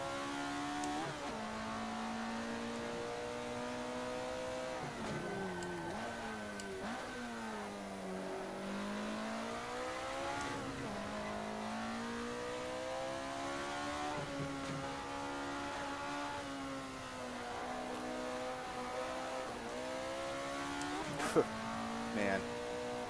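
An old car's engine in a racing video game, droning and rising and falling through the gears in long revving sweeps, steady and close, with a brief tire-squeal spike near the end and someone talking over it.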